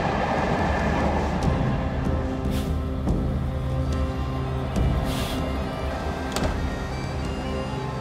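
Overnight sleeper train rolling into a quiet Scottish station at dawn, a steady low rumble with rhythmic rail clicks and occasional squeals, heard from on board.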